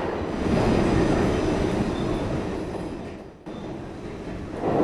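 Subway train running underground, a loud continuous rumble and rattle of wheels on rails with a thin high squeal, dipping briefly and swelling again near the end.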